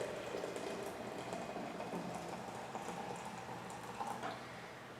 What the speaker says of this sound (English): So I pour directly onto the bottom here.